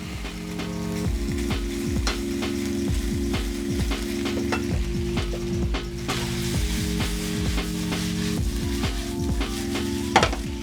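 Onions fry in a pan for Okinawan goya champuru with chicken, producing a continuous close sizzle with scattered sharp ticks and crackles, all beneath steady, tuneful background music.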